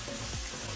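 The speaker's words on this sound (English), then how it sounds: "I just love the sound of the cast iron sizzle." Seasoning sizzles in a hot cast iron pan with a steady, close, broadband hiss that holds evenly through the short moment.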